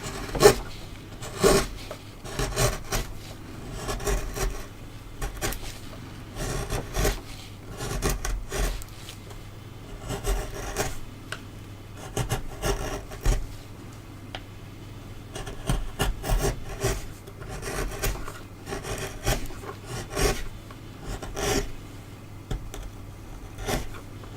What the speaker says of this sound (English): all we're doing at this point is just getting rid of waste wood